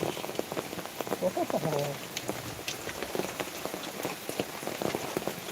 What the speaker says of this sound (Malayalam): ഇതിൽ അത്യാവശ്യം നല്ല മഴയുണ്ട്